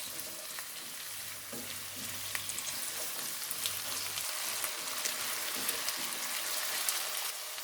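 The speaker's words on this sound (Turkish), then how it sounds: "Karıştırmaya devam ediyoruz." Vegetables for a borlotti bean stew sizzle and crackle steadily in a hot pot, with soft scraping from stirring now and then and a low hum fading midway.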